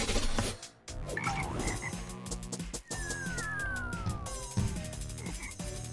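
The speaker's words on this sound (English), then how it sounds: "Frogs." Frogs croak in a swampy level of Draw a Stickman EPIC 2, layered over steady game music with rhythmic croaks, a couple of sliding whistle effects and occasional thumps.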